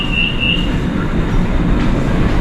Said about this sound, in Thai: ตอนนี้เราอยู่ที่รถไฟฟ้าใต้ดิน เราจะไปลงอยู่ที่วัดมังกร รถไฟฟ้า MRT